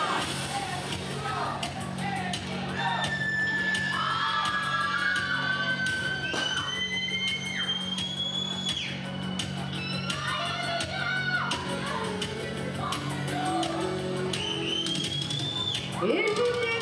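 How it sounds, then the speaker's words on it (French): Wrestling arena crowd chants wrestler Emilio's name, a steady roar of voices with shouts and whoops rising and falling throughout, under a commentator talking. "Comment Emilio doit se sentir pendant que la foule scande son nom."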